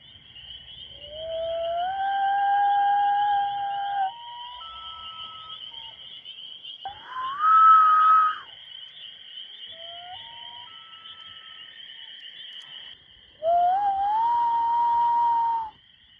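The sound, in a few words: person imitating a loon call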